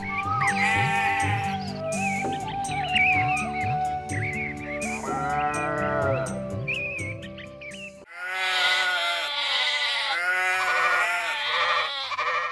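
Goats bleat over and over in a farm livestock setting, several overlapping wavering calls close by and fairly loud, with no talking.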